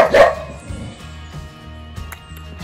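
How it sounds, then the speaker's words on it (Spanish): A small dog barks once, near and loud, at the start, followed by faint, scattered yips at a distance over a low, steady outdoor hum in Puerto Rico. "por ahí está el perrito, mi amigo, ladrando"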